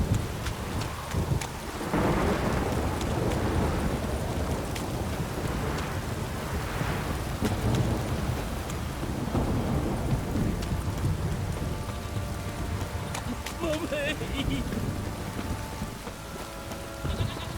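Steady heavy rain pours throughout in the video game The Witcher 3, with low rolling thunder rumbling in the background, and a faint bleating animal sound near the end.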